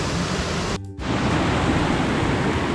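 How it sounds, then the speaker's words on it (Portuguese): The Barbarinha waterfall in Chapada dos Veadeiros roars as a dense, continuous broadband rush of falling water, loud and close, broken by one brief dip before the steady roar resumes. "Isso aqui é a cachoeira Barbarinha"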